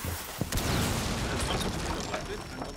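A breach charge blows in a Rainbow Six Siege match: a sharp blast near the start followed by scattered gunfire and clatter, with players talking over the game action.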